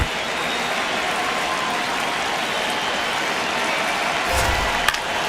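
A baseball stadium crowd at a New York Yankees versus Blue Jays game makes a steady, broad roar of cheering and clapping that holds evenly throughout, with a brief low thump and a sharp crack near the end.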